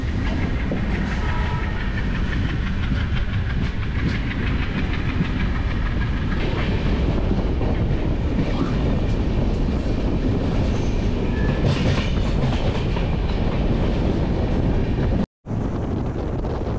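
The Pothigai SF Express runs along the track with a loud, steady rumble, rhythmic clickety-clack of wheels and wind buffeting the microphone, recorded from on board before a brief cut near the end.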